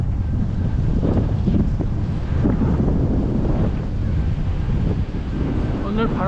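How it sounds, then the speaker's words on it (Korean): Strong wind buffeting the microphone during a mountain bike ride on a Korean hill trail, a constant loud low roar and rumble filling the whole stretch, with a brief voice-like squeak near the end. "엄청난 바람"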